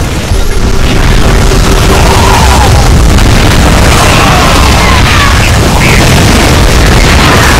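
Dense, loud explosions from a StarCraft II campaign mission, the train robbery, with booming blasts and bursts piled into a continuous roar that fills the whole stretch, carrying no clear gaps.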